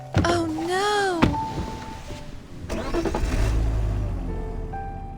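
A car starting to move in the game Love and Deepspace: a low engine rumble builds beneath musical tones and voice-like sounds, rising steadily toward the end.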